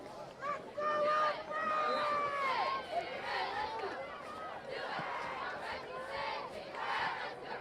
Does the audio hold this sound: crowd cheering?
yes